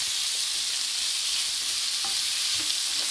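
Tomatoes go into a hot pan of sautéed daikon, onions and meat, which gives a loud, steady sizzle and frying hiss with faint stirring clinks.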